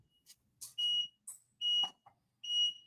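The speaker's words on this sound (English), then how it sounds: "her alarm is saying time for bed." Three loud electronic alarm beeps, each a steady high tone lasting about a third of a second, are evenly spaced apart. Soft background chatter and small clatters fill the gaps between them.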